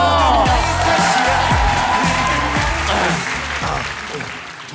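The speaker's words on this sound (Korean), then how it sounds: "박수!" Loud, dense applause from a crowd fills the whole stretch, steady at first and then easing off slightly toward the end.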